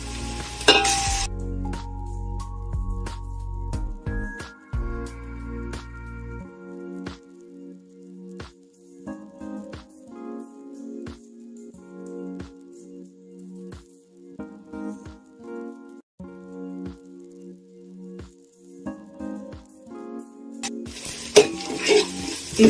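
Onions frying in a pan with ginger garlic paste are stirred steadily, giving a soft sizzle under a long run of sharp scraping clicks from the spoon, heard up close.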